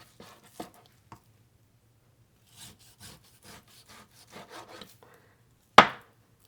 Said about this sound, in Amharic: እኔ አሁን እከትፈዋለሁ ማለት ነው።